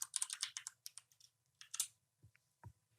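Quiet burst of typing on a computer keyboard, with rapid light key clicks in an uneven rhythm followed by a couple of slower, heavier taps, close and faint against a low hum.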